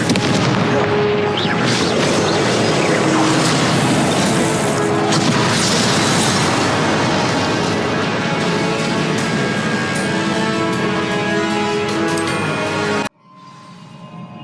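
The Confringo fire spell from Hogwarts Legacy on PS4 erupts in a loud, sustained explosive boom with crackling debris that rumbles on for many seconds before cutting off abruptly into quiet.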